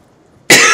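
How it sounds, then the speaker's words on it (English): One sharp, loud cough breaks abruptly out of near silence halfway through and fills the rest of the moment. "Sorry for my cough."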